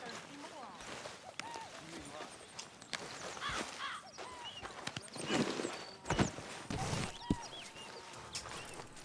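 Horse hooves clip-clopping in a camp in Red Dead Redemption 2, a quiet scattered patter of steps at moderate distance under someone talking.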